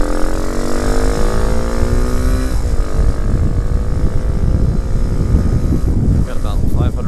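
A 2019 RPS Hawk 250 motorcycle cruises down a country road at about 55 mph, its steady engine drone shifting pitch while heavy wind rumble buffets the rider close by.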